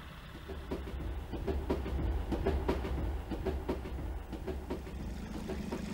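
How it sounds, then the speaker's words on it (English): A train rolls past with rhythmic clickety-clack beats from the wheels over the rails, a steady rumbling run at moderate loudness. "Train."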